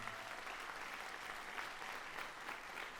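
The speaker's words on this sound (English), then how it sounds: "we want to give them a round of applause again" An audience at an honor band concert applauds, a dense, steady clatter of many hands clapping throughout, moderately distant and without talk over it.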